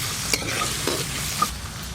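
Potatoes hit hot oil in a wok over a tempering of dried chillies and five-spice, producing a steady close sizzle with a few sharp stirring clicks.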